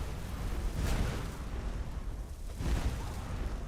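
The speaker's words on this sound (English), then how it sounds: "I don't know how you did not hear the explosions." Two deep rumbling booms in Skyrim, one near the start and another later, each swelling out of a continuous low roar of dungeon ambience, with no speech.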